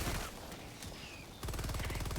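Rapid gunfire from the video game Helldivers 2 rattles in continuous bursts. It steps up to a denser, evenly pulsing automatic stream partway through and stays loud and steady throughout.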